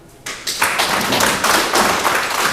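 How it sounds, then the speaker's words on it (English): An audience at an African expats empowerment forum breaks into applause, the clapping swelling within a second into a dense, loud, sustained patter of many hands that fills the rest of the moment. "I want all of us to clap for Mr. Emeka"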